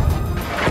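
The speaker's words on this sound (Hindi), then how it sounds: "बम के गिरते ही वो इमारत एक तेज धमाके के साथ ढह गई।" A loud crashing smash as a building collapses after a bomb strike during the Israel-Palestine war, with dense low rumble and debris noise throughout.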